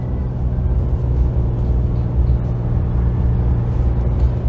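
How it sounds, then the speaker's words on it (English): RAM 2500 heavy-duty pickup with a Cummins 6.7L diesel, engaging its exhaust brake while towing a trailer, a steady deep rumbling drone with a constant low-pitched throb, close and continuous, no voices. "That exhaust brake is no joke."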